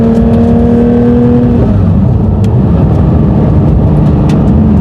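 A Porsche 911 GT3 RS with its 4.0-litre engine accelerates hard, a loud, close, sustained high-revving roar that climbs in pitch and then shifts, with steady wind and road rush throughout.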